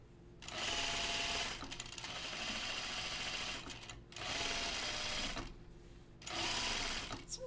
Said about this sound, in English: I'm going to stay stitch between this notch on this side here and